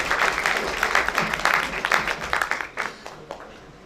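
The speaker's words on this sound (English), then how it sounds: "Another round of applause for me also for keeping the time management" A symposium lecture-hall audience claps in a steady patter of applause that gradually thins out and fades toward the end.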